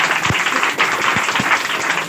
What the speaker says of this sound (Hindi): आप लोग एक बार जितने भैया आए हुए हैं सबके लिए जोरदार ताली बजाइए।